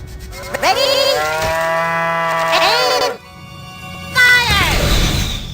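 Several long, drawn-out cow moos from the video game South Park: The Stick of Truth, rich in harmonic tones, one after another, loud and close, with a low background hum.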